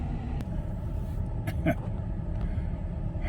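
A pickup truck with 200,000 miles on it, driven on a road test after brake work, steady low engine and road rumble from inside the cab with a few faint clicks and knocks.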